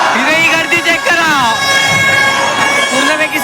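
A siren wails with rising and falling tones during a Ganpati idol arrival procession in Mumbai, loud and close, mixed with crowd noise and voices.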